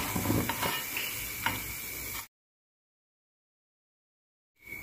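Ribbon pakoda fries in hot oil with a steady, close, hissing sizzle and faint clinks. The sound cuts to silence for a couple of seconds, then the sizzle briefly returns.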